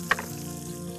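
Lentils (dal) frying in a pan on a stove: a steady close sizzle with a brief stirring scrape near the start, no voices.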